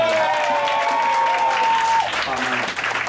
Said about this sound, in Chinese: 爸妈，不要拍手